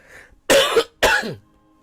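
Two sharp coughs close up, one right after the other, with quiet before and after.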